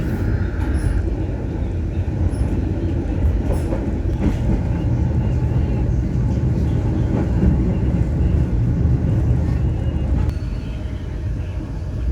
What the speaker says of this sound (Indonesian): perjalanan kereta yang menyusuri jalur pegunungan